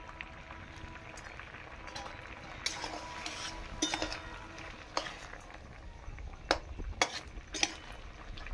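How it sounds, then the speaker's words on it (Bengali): Raw papaya morabba with cardamom is gently stirred in a pan, giving soft scraping and occasional light clinks of a spoon against metal over a low simmering sizzle, with a few sharper knocks near the end. "হালকা করে আমি এটা নেড়ে নেব"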